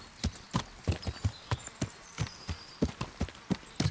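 Horse hooves clop in a steady walking rhythm in the video game Kingdom Come: Deliverance, crisp and close, about a dozen distinct hoof falls with no talking.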